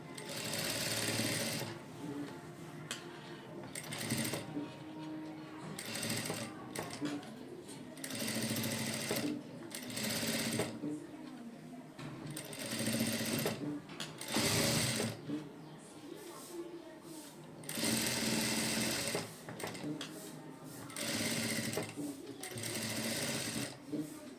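A sewing machine stitching a cut-work blouse design runs in repeated rapid bursts of mechanical whirring with short pauses between. It is close and loud, with a voice talking over it at times.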